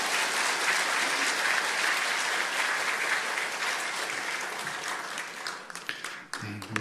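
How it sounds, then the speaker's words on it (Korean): A church congregation at a Korean Sunday worship service applauds loudly and steadily for several seconds. The clapping thins out near the end as a voice begins. "우리 인사하실 때 격려하면서 한번 힘차게 박수하겠습니다"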